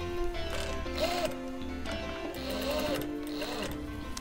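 A sewing machine stitches piping onto fabric in quick mechanical bursts, its rhythmic whirring and clatter rising and pausing several times, close by and moderately loud with no talking.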